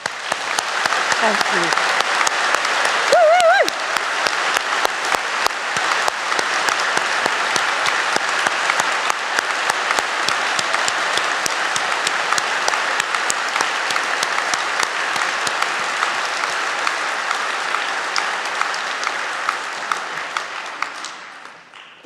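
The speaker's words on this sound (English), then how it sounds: "I would like to join Gordon and all of you in giving an enormous round of applause for the people that helped you get here today." A large audience applauds at a university graduation ceremony in London, with long, sustained, even clapping that fills the hall and tapers off at the end, plus a brief spoken thanks near the start.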